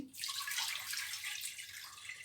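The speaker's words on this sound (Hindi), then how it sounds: "3 गिलास मैंने पानी डाला है।" Water pours into a cooking pot, three glassfuls for mash and chana daal, a bright splashing rush that starts abruptly and runs steadily, close and moderately loud, with no voices.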